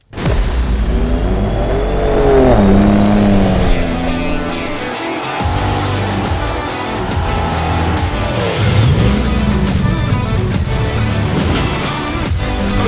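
A ROUSH Raptor pickup truck is driven hard at a rally driving school. A loud, close engine roar holds throughout, with revs rising and falling as it accelerates.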